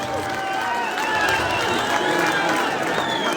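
At a national youth day celebration, a crowd applauds an award recipient with a continuous dense wash of clapping and mixed voices, loud and sustained throughout.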